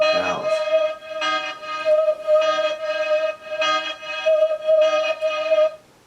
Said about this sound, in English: I like these bells.